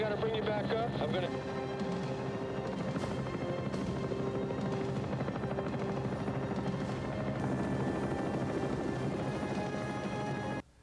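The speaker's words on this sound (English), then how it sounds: "We're going to see 3 different shots of the same copter." A helicopter on a film soundtrack, the copter marked with a large 6 on its side, gives a loud, steady rotor drone for about ten seconds that cuts off abruptly at the end.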